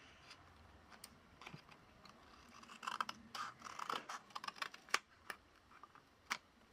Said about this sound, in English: But I think I'm going to cut this back top flap off.